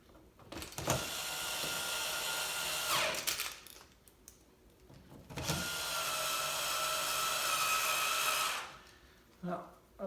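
A power drill or electric screwdriver drives screws back into a VW Jetta MK4 headlight housing, in two sustained whirring bursts of a few seconds each, close and fairly loud, followed by a brief handling clatter.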